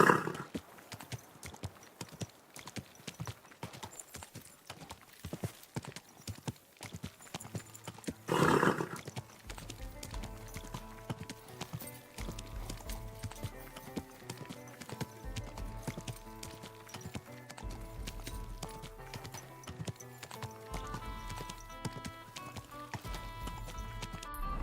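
A horse's hooves clip-clop in Kingdom Come: Deliverance II, a steady rhythmic trot under music, with a brief whinny or snort partway through.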